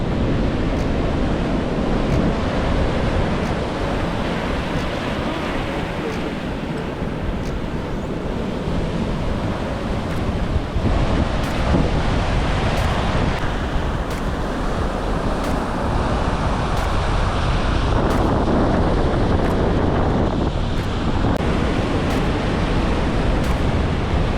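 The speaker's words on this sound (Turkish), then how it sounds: "Karadeniz'in dalgaları meşhurdur ya. Bu dalgalar hiçbir şey." Black Sea surf breaking along a sandy shore in Samsun, a steady loud wash of waves with gusting wind buffeting the microphone throughout, no voices.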